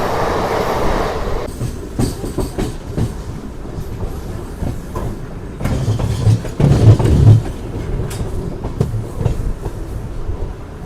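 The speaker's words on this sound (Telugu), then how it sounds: "సో ఇది వచ్చేసి మన తిరుపతి ప్యాసింజర్ ట్రైన్ ఇది." Tirupati passenger train rolling along the tracks, a loud, rumbling run of wheel clatter and carriage noise that swells and surges midway before easing off, with no voices.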